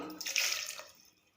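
A short splash of half a cup of water poured onto chopped onion in a grinder jug, rising quickly and fading within about a second, close and fairly soft.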